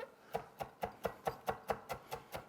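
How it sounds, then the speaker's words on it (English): A knife chops tightly rolled-up vegetables on a cutting board for a shrimp and vegetable stir fry, about ten crisp, evenly spaced strokes in a steady rhythm, close and clear. "while I'm chopping it up"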